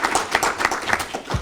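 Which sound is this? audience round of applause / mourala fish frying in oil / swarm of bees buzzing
audience round of applause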